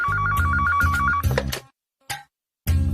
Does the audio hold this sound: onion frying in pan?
no